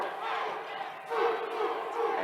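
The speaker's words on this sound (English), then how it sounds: "Lady Bear fans in the crowd getting pumped" A basketball crowd of Lady Bears fans cheering and roaring at a 1993 women's college game against Wichita State, a broad, sustained crowd noise that swells partway through.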